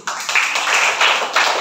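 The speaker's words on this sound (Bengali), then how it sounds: "মামুনের জন্য একটা জোরে হাতে তালি দেই" Children clap their hands for a classmate, a short burst of quick, fairly loud claps lasting under two seconds with no one talking over it.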